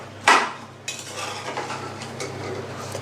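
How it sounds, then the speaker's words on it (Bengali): A spoon scrapes and clinks against a metal pot while soaked chickpeas with salt are mixed, a sharp knock followed by close, repeated stirring rustles. "এটা আমি ভালো করে মেখে নেব।"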